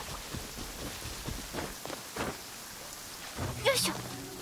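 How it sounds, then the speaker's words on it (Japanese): Rain and thunder rumble in Genshin Impact, a steady wash of rainfall with a low rolling boom near the end and brief game sound effects layered over it. "雨の音を聞くのが好きですが、少し贅沢すぎますね。"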